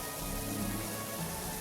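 Pressure washer spray hitting a house roof in a video game, a steady hissing, pattering wash of water heard close and continuous.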